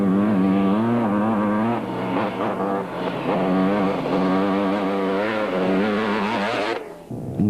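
A Honda quad bike races hard over a bumpy, flat-looking road, its engine snarling loud and close with wavering pitch as the ride jolts, then cutting off abruptly near the end.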